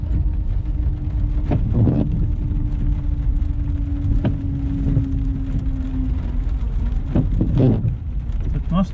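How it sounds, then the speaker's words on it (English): Steady patter of light rain with a low engine hum in the background and a few faint thuds. "Also starting to rain a little bit."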